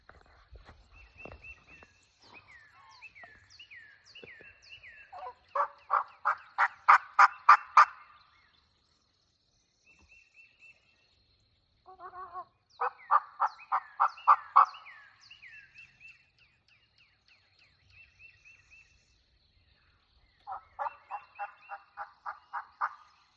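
Wild turkeys gobble from a distance in quiet outdoor woods, three separate bursts of rapid rattling gobbles spaced several seconds apart, each rising and falling.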